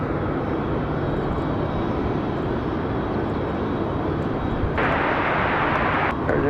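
An Airbus A319 arriving from Boston gives off a steady, loud broadband roar of jet engines throughout, with a brighter rise in the rush toward the end and no voices.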